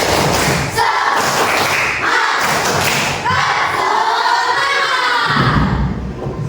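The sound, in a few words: class doing the rhythmic 'tepuk semangat' spirit clap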